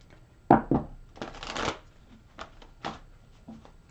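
Tarot cards for a reading being shuffled by hand in several short, crisp riffling bursts with brief pauses between, close and clear.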